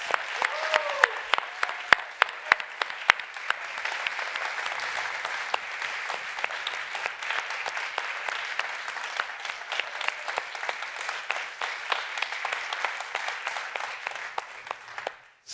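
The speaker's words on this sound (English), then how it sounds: "everyone give them a warm welcome and a round of applause" Sustained applause from a large audience at a summit awards ceremony, with dense steady clapping across the whole stretch and a few sharper individual claps standing out.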